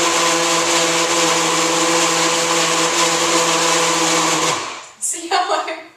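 A blender whirs loudly and steadily while blending a green smoothie, a dense motor drone with a rattling edge that cuts off abruptly near the end and gives way to brief clattering.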